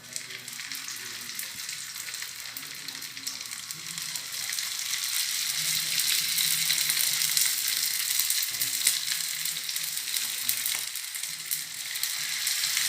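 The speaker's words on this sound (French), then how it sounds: "راح نوري لكم الطريقة كيف حنقليه" Brick pastries filled with potato, cheese and minced meat frying in a little oil, a dense, close crackling sizzle that grows louder midway and keeps going without talk.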